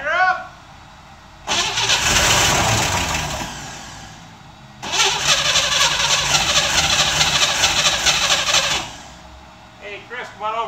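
A cold Chevrolet Corvair engine cranks and catches in two loud bursts separated by a pause, each running several seconds with a rough mechanical roar before cutting off, with brief talk at the start and end.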